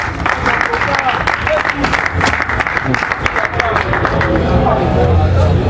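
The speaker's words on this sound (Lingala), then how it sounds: "Tous nos applaudissements" Applause at a boxing-related press gathering in Kinshasa, a room full of hands clapping in a dense, steady patter mixed with crowd murmur and a voice over the top.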